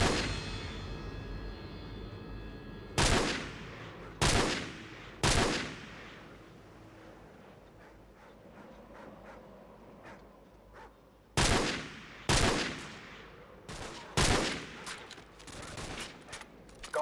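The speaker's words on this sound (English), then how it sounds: "Open fire." Gunfire in the Call of Duty 4 campaign: about ten sharp, loud single shots and short bursts, spaced irregularly over a quiet battlefield background, clustering more tightly toward the end.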